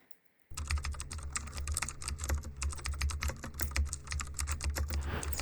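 Rapid typing on a computer keyboard while writing an HTML comment, a dense, steady clatter of close keystrokes that starts abruptly after a brief silence and runs on continuously with no talking.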